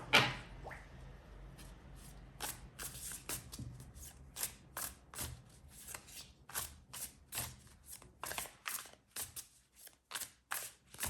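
A deck of tarot cards is shuffled close by and quietly, a rapid run of crisp riffling and slapping sounds that grows into a steady rhythm of repeated shuffles with no voice over it.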